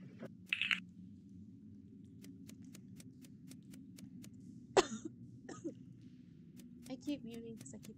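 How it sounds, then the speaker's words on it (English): Several short coughs and a throat clear come at intervals from a person with allergies during a Goose Goose Duck game, sharp and close over a steady low hum with faint ticking in between. "I keep muting because I keep coughing, by the way."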